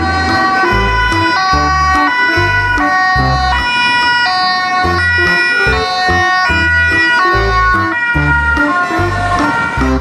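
A toy ambulance siren plays loud and close, a repeating electronic wail over a thumping beat that carries on steadily for about ten seconds.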